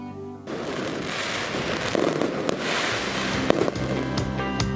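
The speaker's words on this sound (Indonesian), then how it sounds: "Percikan cahaya kembang api menyala menerangi langit Jalan Raya Margonda, disertai bunyi ledakan saling bersahutan" Fireworks crackle and pop continuously over a city street, with a few louder bangs standing out above a dense, fizzing barrage, fairly close and sustained throughout.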